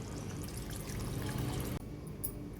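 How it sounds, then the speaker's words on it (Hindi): A cup of water is poured into masala cooking in a pan with pota and kaleji, a soft, close splashing pour that runs for a couple of seconds and then stops abruptly. "मैं अभी 1 कप पानी डालूंगी"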